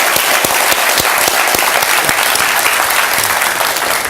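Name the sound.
audience applause as the President of Nigeria departs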